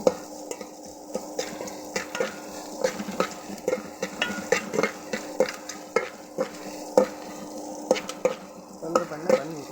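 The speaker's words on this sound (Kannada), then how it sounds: "ಕಂದು ಬಣ್ಣ ಬರೋವರೆಗೂ ಫ್ರೈ ಮಾಡ್ತೀನಿ" Food frying in a pan until browned: a soft continuous sizzle under rhythmic, evenly spaced stirring scrapes and metallic clinks that repeat throughout.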